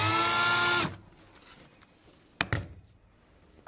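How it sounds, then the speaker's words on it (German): Cordless drill driving small screws into a wooden canvas stretcher frame, with a close, loud buzzing whir that cuts off sharply, followed by a couple of brief taps and clunks. "schrauben unsere Schräubchen erstmal nur vorsichtig an"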